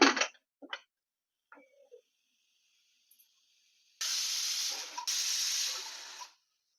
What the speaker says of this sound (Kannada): ಈಗ ಕುಕ್ಕರ್ ವಿಸಿಲ್ ಹಿಡ್ದಿದೆ